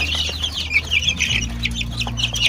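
Naked neck chickens at a poultry farm in General Santos City cluck and chatter continuously close by, with several birds calling over a low steady background hum.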